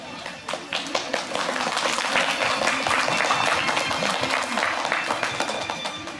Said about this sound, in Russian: Они достойны самых громких похвал и нескончаемых аплодисментов.